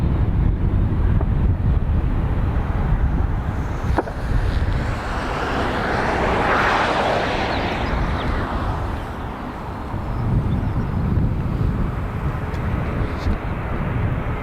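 British Airways airliner taking off full length at Dublin Airport, bound for Heathrow: a distant jet roar swells through the middle and fades, mixed with wind buffeting the microphone.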